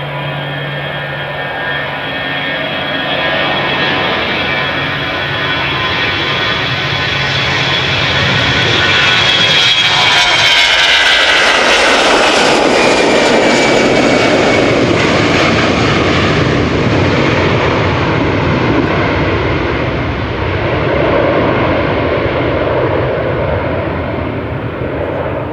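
A German Airways jet departs Amsterdam Schiphol Airport up close. Engine whine and roar build to a very loud peak as it passes, then ease into a broad rumble that fades slowly as it climbs away. No one speaks.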